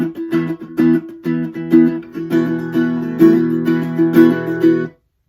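An acoustic guitar plays the full chord line of the break from a song (live version). Rhythmic down and up strums ring steadily and close for several seconds, then stop abruptly, with no voices.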